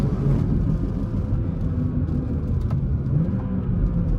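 A 500hp BMW engine holds a loud, steady, rumbling drone throughout a short slide through a corner, with no one speaking.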